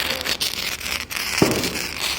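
A wire sparkler firework burns with steady crackling hiss, a continuous fizzing spray of sparks with brief pops, close and fairly loud throughout.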